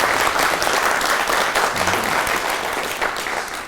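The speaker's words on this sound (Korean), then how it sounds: "박수 한번 칠까요?" Dense, sustained applause from an audience at a talk concert held at the University of Sydney, steady clapping filling the whole span with no voices over it.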